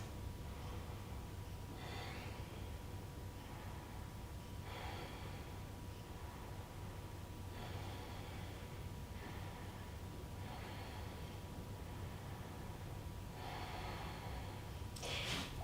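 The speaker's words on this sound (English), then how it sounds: "5 deep breaths." Slow deep breaths during a yoga session, several soft inhales and exhales spaced a few seconds apart, quiet and close over low background hiss.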